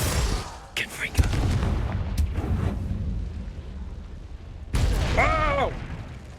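Confringo blasting spells in the video game Hogwarts Legacy go off in booming bursts with crackling impacts, and a player's voice is heard between the blasts.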